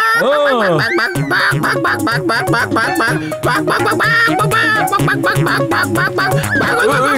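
A cartoon character from Motu Patlu imitates a chicken's cry, letting out loud, rapid, squawking clucks and warbling calls in a continuous burst over a busy musical background.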